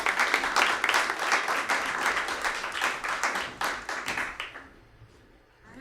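A room of attendees at a tech conference pitch event claps in a lively, crackling round of applause that holds steady for about four seconds, then thins and fades out quickly to near silence.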